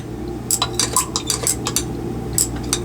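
A solution being stirred in a glass vessel during a eugenol lab, with a run of quick metallic clinks and scrapes over a steady low hum, near and clear, no talking.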